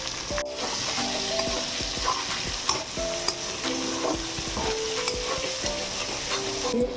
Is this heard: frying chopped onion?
yes